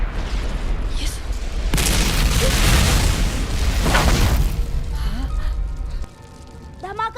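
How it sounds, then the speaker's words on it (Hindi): A loud action-movie explosion erupts with a deep boom and a long roaring burst of debris, then settles into a quieter rumble with scattered crackles and faint voices near the end. "धमाका हुआ है, भागो भागो।"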